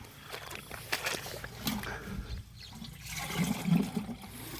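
Water sloshes and splashes as mud is scooped by hand from a shallow pond while digging for fish, with irregular wet churning and dribbling close by and no talking.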